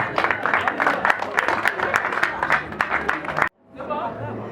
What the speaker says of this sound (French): Sous vos applaudissements, bien sûr.